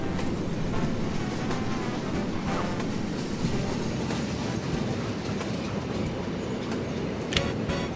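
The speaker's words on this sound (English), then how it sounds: "I probably should have stopped that train" Train rumbling along tracks in the railway game Conduct Deluxe, a steady loud rolling clatter with faint clicks and a brief squeal near the end, no talking.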